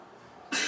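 A single sharp, loud cough or throat clearing from someone with allergies, bursting in close after a moment of near silence.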